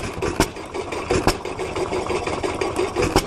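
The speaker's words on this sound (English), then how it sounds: "So now this engine's running" A farm engine runs steadily to drive a burr mill at a living-history demonstration, its chugging rhythm continuous with periodic louder thumps, close and fairly loud with no talk.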